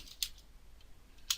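A computer keyboard clicks in two short bursts of keystrokes, close and fairly quiet, separated by a brief pause, with no speech.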